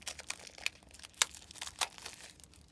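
Wrapped packs of City Hall game cards being torn open, giving quiet crinkling and tearing of wrapper film in short irregular bursts with a few sharper crackles, close by and with no talking.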